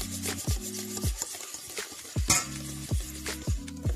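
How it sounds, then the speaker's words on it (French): Homemade cosmetic cream being stirred steadily in a bowl, giving a rhythmic series of soft scraping and rubbing strokes, close and fairly loud, with no voices. "on continue de mélanger jusqu'à ce que le mélange soit homogène"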